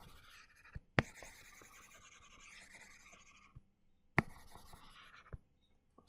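Eraser or cloth rubbing writing off a lecture board, brisk scraping strokes in bursts broken by a few sharp taps, close and fairly quiet in a room.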